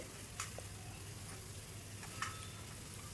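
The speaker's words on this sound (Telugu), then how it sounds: "స్టవ్ హైలో పెట్టుకొని కొంచెం బాగా ఫ్రై చేసుకోవాలి." Chicken frying in masala in a pan on a stove at high heat, a quiet steady sizzle with a few soft ticks and stirring clicks, with no speech.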